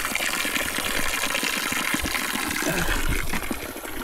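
Ice-cold mountain spring water pours steadily at a trail water source on the Akiki Trail to Mount Pulag, a close, continuous splashing gush with no pauses.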